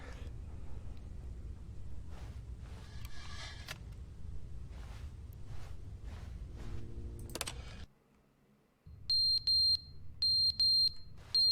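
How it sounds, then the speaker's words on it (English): Smoke alarm chirping for a low battery inside The Stanley Parable: Ultra Deluxe: a run of sharp, high, evenly spaced electronic beeps that starts after a brief silence, following a stretch of quieter game ambience. "Change the friggin' battery to the fire alarm, dude."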